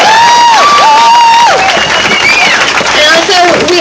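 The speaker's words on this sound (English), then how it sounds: "I want to give them all a round of applause" A loud rally crowd at a march against Monsanto cheers and shouts, with overlapping raised voices filling the space close and continuously and no clear separate clapping.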